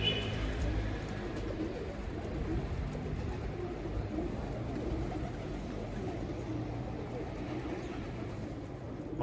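Tumbler pigeons on a rooftop coo softly and faintly against a constant low outdoor background hum.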